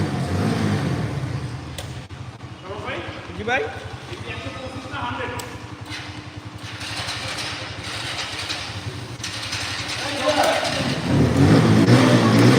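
A motorcycle engine idles and revs at a bike fair, with a surge of revving at the end. People talk throughout over the engine.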